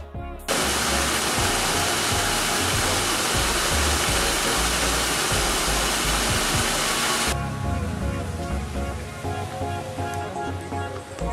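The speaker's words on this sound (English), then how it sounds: "and a little man-made waterfall" Steady, loud rush of a small man-made garden waterfall in Freeport, Bahamas, broad and continuous, with a slight change in tone partway through; no voices.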